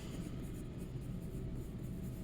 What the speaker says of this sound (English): Didn't write my name on the back.